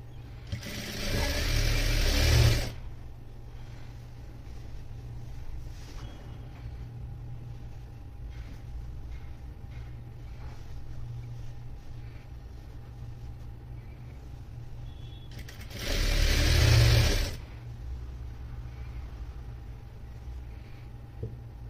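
A sewing machine stitches anarkali frock pieces together with their lining in two short loud runs, near the start and again after a long stretch of quiet room hum, with no talk.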